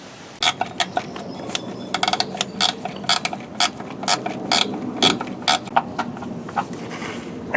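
A Flex Head 14 ratcheting box-end wrench clicks as it turns a bolt on a car, giving irregular bursts of sharp, close ratchet clicks with brief pauses between strokes and no talking.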